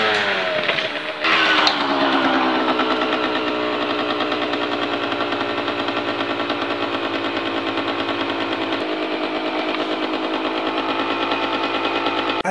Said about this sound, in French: c'est une moto de plaisir avec son bruit typique de l'époque